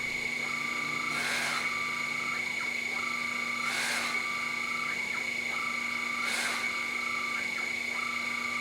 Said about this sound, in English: Now we can run the CNC code and cut that little chamfer.